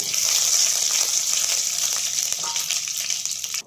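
Bay leaf, fennel seeds, cardamom, cloves and curry leaves sizzle and crackle steadily in hot oil for a chicken semi gravy, a close, continuous frying hiss with no talking.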